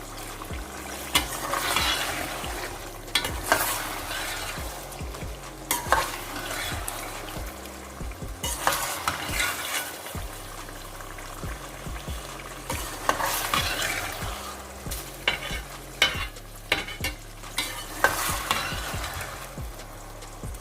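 Chicken karahi with cumin and dried coriander sizzles in a pan while a utensil stirs it, making repeated sharp scrapes and clacks against the metal over a steady frying hiss.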